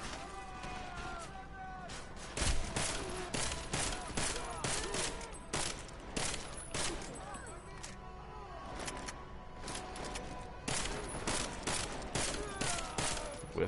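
Battle rifle fire in Deus Ex: Mankind Divided, loud sharp shots in irregular bursts and single cracks across the whole stretch, with echoing impacts between them.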